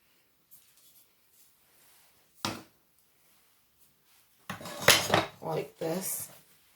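A knife cuts through a round of honey butter bread, giving a single sharp tap followed by a cluster of quick, close scraping and clattering strokes against the board, with quiet gaps between.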